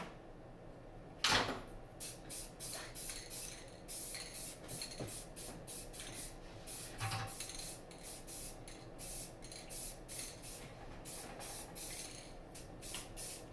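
Rapid repeated bursts of spray paint hiss as another coat goes onto a part in a shop, the short aerosol sprays coming in quick succession after a single knock.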